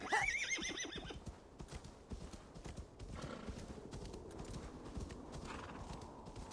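A horse whinnies, then its hooves clip-clop in a steady rhythm while it is ridden through the landscape of Assassin's Creed Valhalla, fairly faint and with no talk over it.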